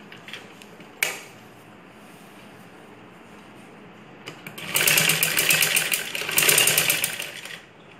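A sewing machine stitches a V on a ladies blouse. A sharp click sounds, then a quiet stretch, then a loud rapid mechanical whirring run of stitching for about three seconds, close by with no voices.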